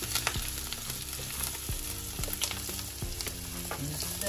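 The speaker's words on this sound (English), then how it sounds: "The oil is hot. So we're going to put in the... and the carrots and the onion," Carrots and onion sizzle and crackle in hot oil, with a steady frying hiss broken by sharp pops and the clatter of stirring, close and fairly loud with no voices.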